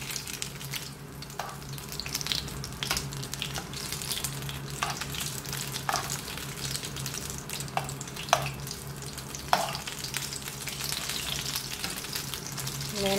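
Chicken and vegetable spring rolls deep frying in hot oil until crisp, a dense continuous bubbling sizzle with occasional louder crackles and light stirring taps, close and steady.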